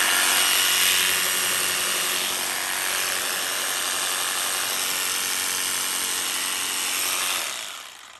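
A Ryobi P5231 18V cordless jigsaw runs steadily with a loud, continuous whirring buzz, holding a constant pitch before winding down at the very end; no voices.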